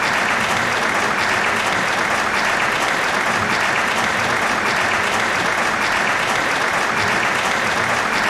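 Crowd applause from the video game Trails of Cold Steel, a dense, steady wash of many hands clapping at close range that keeps going at full loudness for the whole stretch.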